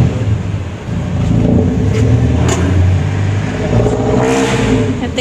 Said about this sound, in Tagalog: Ito yung bagong motor ni Habi, oh. Honda Click 150.